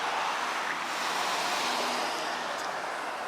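Atlantic Ocean surf at Mar del Plata makes a steady, broad wash of waves with some wind, heard from a nearby shore, continuous and moderately loud with no voices.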